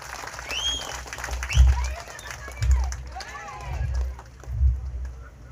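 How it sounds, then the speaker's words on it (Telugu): Audience clapping welcomes a guest, Dr. Pemmasani Chandrasekhar, at an outdoor village political gathering: several swelling bursts of applause roll through the crowd alongside a public-address announcer. "డాక్టర్ పెమ్మసాని చంద్రశేఖర్ గారికి గట్టిగా చప్పట్లతో స్వాగతిద్దాం"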